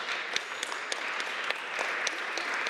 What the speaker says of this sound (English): she deserves an applause from you